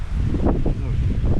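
Strong hurricane-force wind on the Azov Sea shore at Berdyansk, during a fishing trip, roars and buffets the microphone in a loud, continuous rush for a brief moment.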